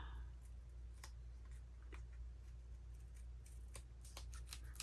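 Paper being trimmed with scissors while crafting paper envelopes: a run of faint, crisp snips and clicks that grow denser toward the end, heard close against a quiet room hum with no talking.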